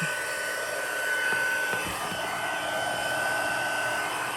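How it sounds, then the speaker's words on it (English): An embossing heat tool blows hot air over a hand-stamped card, giving a loud, steady, close fan-like whoosh that runs unbroken the whole time. "We'll have our heat tool and we will emboss that."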